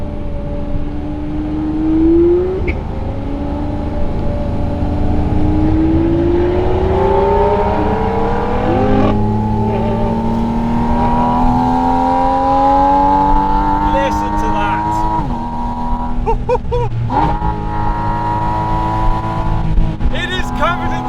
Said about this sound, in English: Just this platform with this engine and this carbon airbox sound.